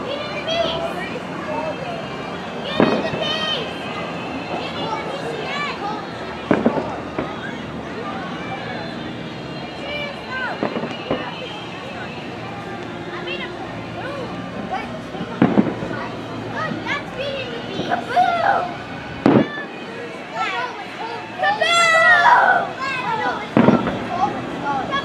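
Fourth of July fireworks show at Mt. Rubidoux, with repeated booms and crackling bursts scattered throughout, heard at a distance beneath the near chatter of adults and children in the crowd.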